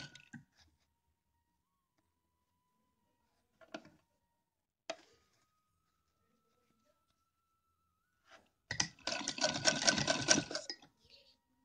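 A few faint isolated clicks and ticks are followed by a loud, fast burst of a sewing machine stitching lining fabric for a traditional dress, running for about two seconds before stopping.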